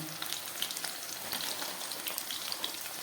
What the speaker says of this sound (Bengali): সঙ্গে আমি ক্যাপসিকামটাকেও ভেজে নিচ্ছি।